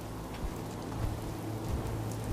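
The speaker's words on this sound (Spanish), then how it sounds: "Maldita lluvia" Rain falling in Fallout 4: a steady, soft patter and hiss that stays even and unbroken throughout, with no voices.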